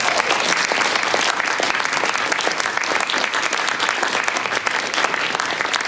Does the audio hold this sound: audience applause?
yes